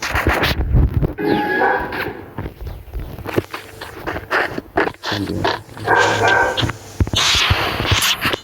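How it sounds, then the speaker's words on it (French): A dog barks indoors in short repeated bursts, with scraping and footstep-like knocks around the barks. The sounds are close and fairly loud. "il y a mon chien qui capte un câble"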